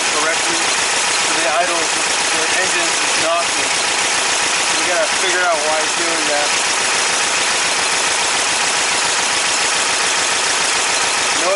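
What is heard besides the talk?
VW engine with dual EMPI 40HPMX carburetors idling, knocking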